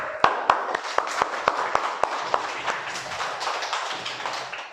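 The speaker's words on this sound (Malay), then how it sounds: "Bagi tepukan sikit." A class gives a short round of applause, with a few sharp, distinct claps up front that blend into a light patter of hands.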